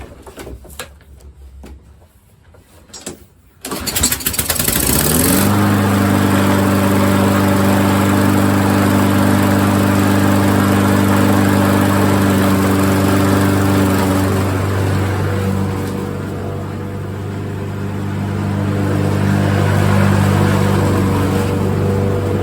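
After a few seconds of quiet clatter, a John Deere JS46 walk-behind lawn mower engine fires up after a carburetor cleaning and runs steadily with a loud, even drone that dips slightly in the middle before settling.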